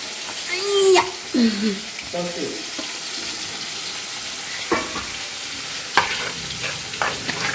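Snails frying in spice masala give a low sizzle broken by scattered stirring scrapes and clinks, with brief bits of voice in the background.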